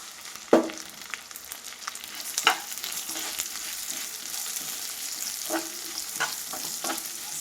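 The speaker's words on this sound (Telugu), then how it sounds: "సిమ్లో పెట్టుకుని చక్కగా దోరగా వేయించుకోవాలి." Fenugreek and mustard seeds frying in oil on a low flame for Andhra-style gongura pickle, a soft steady sizzle with occasional sharp pops and stirring clicks.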